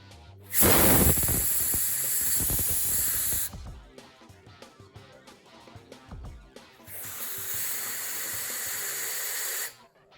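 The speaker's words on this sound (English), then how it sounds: "I take my compressed air, hopefully you can see it, and I create the venturi to blow the air out" Compressed air forced through a venturi to pull fluid out of a 5.7 Hemi engine, two loud, sustained hissing blasts with a gap of clicks and handling noise between them, close by.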